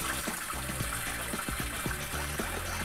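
A top-loading washing machine with an agitator fills with water, giving a steady rushing stream and splashing into the drum, moderately loud and with no speech.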